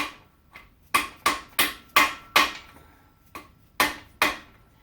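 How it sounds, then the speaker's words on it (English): A hammer taps freeze plugs into a Ford 428 engine block for a 1964 Galaxie 500, giving about a dozen sharp, metallic blows in uneven groups, close and fairly loud, with no talking. "as you can see, I'm not going crazy with this hammer. They are going in."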